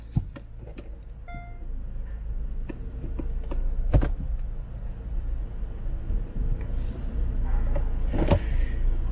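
Idling Hyundai Grandeur IG diesel cabin with a steady low engine drone, a few mechanical clunks and clicks as the gear selector moves between forward and reverse, no talking.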